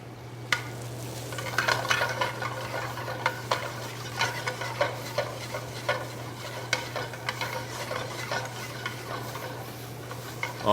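Onions hitting a hot pan and sizzling steadily, with repeated sharp scraping strokes of a utensil stirring them, close and loud over a low hum.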